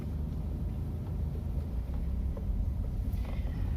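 Inside a Mitsubishi Xpander Ultimate as it pulls away, a low, steady engine and road rumble stays quiet and smooth throughout, with no voices.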